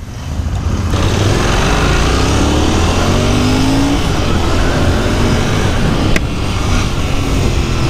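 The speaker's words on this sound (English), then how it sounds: "let me quickly jump on the motorcycle and take it out." A Royal Enfield Interceptor 650 twin-cylinder motorcycle engine roars loudly and continuously, rising in pitch as it revs and accelerates, heard up close.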